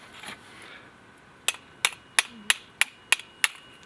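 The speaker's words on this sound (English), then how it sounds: "I usually tap it just a little bit to seat it in there." Seven small, crisp taps seat a part in a John Deere 185 riding mower carburetor during a rebuild, evenly spaced light clicks, close up, over a quiet background.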